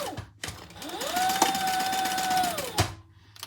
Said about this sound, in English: let's sew this together